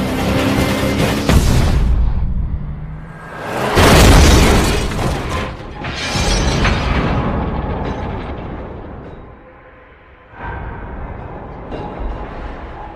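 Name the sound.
car engine overheating and exploding in a film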